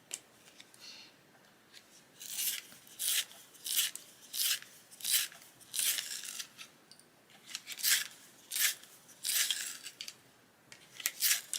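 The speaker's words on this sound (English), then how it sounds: "It's my Prisma sharpener." A Prismacolor sharpener grinds a coloured pencil in a series of quiet, rhythmic rasping bursts, each lasting about half a second, with short pauses between turns and no talking.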